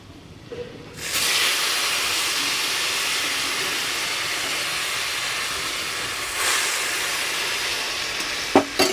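Lentils tipped into a pan of fried garlic burst into a loud, steady hiss of sizzling oil about a second in. The sizzle continues unbroken with a brief swell toward the end, close by and with no talk.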